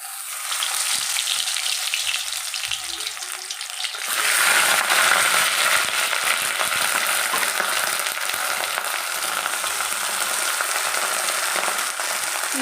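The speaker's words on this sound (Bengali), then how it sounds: "এবার আমি তেলে ফ্রাই করে নেব" Bhetki fish parcels wrapped in gourd leaves drop into hot mustard oil in a pan, setting off a loud, bright, steady sizzle that starts abruptly a few seconds in and keeps going, after a quiet opening with faint handling.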